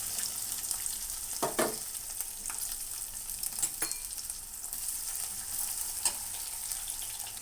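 Chopped onion and green chillies fry in hot oil in a pan, a steady close sizzle with a few sharper crackles and spatula stirs scattered through, no voices.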